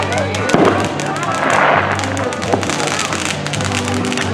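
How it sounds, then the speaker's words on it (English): Dense, continuous crackling and popping of fireworks exploding in a suburban neighborhood fills the air, loud and close, with voices talking underneath the barrage. "Firework."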